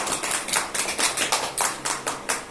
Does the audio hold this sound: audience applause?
yes